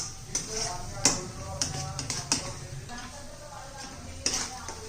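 Spices with turmeric and homemade masala being stirred and sautéed in a pan for rajma masala, a soft sizzle under occasional spoon taps and scrapes against the pan, with someone talking over it.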